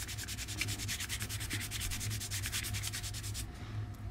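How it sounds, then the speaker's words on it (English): Steady back-and-forth sanding strokes on a plastic model kit stand for an AMT U.S.S. Enterprise, a rhythmic scratchy rasp repeating quickly and evenly, close up, stopping near the end. "Now I'm just going to start sanding to test this theory with you."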